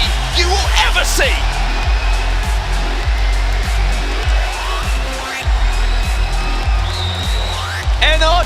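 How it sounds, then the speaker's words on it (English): Crowd at an Apex Legends grand finals esports event in Birmingham roaring and cheering loudly in a large arena, a dense sustained wall of noise under excited commentator speech. "NRG keep things going here in Birmingham as the crowd erupts."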